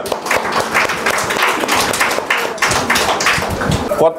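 An audience at a youth Christmas celebration claps steadily and loudly, a dense wash of applause that holds for several seconds, with a voice speaking over it.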